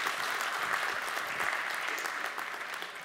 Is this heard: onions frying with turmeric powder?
no